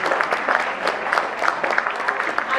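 Audience at a corporate summit in India applauding, a dense steady patter of clapping hands from a crowd.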